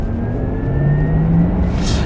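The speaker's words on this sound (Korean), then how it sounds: "50km로 달리고 있다가 스포트 플러스인데 한번 발진 가속을 한번 해보도록 하겠습니다." Porsche Taycan 4S electric car launching hard from about 50 km/h in Sport Plus, with a steady loud cabin rumble and a faint rising electric whine as it pulls away, with no talking.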